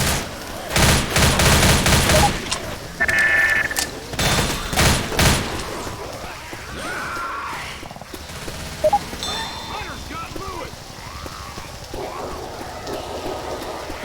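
Several loud broadband gunshots from a hunter ring out in quick bursts near the start, followed by a quieter stretch of scattered outdoor noise and rustling.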